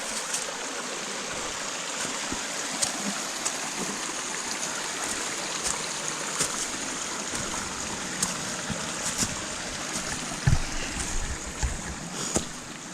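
A creek flowing through woodland on West Virginia or Virginia public land, a steady broadband rush of water with a few faint knocks and rustles, close and continuous with no talking.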